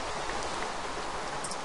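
Steady rain in Minecraft, a dense even hiss of falling drops heard alone and close for a brief moment.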